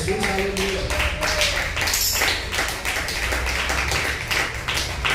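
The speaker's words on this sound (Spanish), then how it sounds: "Aplauda el nombre de Jesús, aleluya." Congregation clapping along during a Spanish-language church sermon, steady rhythmic claps filling the room with voices and music mixed underneath throughout.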